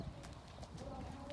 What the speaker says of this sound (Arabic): انا هتمشى دلوقتي بالحصان، ناخد لفه قدامكم